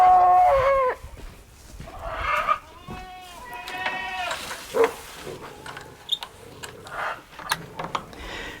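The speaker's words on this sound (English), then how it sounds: "Sandy, let's go get those other goats." Several goats bleat repeatedly, wavering cries rising and falling close by, mixed with other barnyard calls and shuffling noise.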